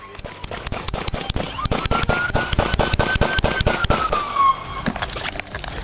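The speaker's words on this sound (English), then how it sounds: "Shots fired!" Rapid gunshots during a police dashcam incident, a loud dense series of sharp cracks in quick succession throughout, with a siren wail rising and falling beneath the shots.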